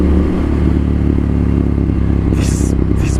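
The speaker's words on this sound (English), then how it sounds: "This bike sounds amazing." Ducati Monster 796 motorcycle engine droning steadily and loud while riding on a road, a constant close exhaust note with brief hissy bursts near the end.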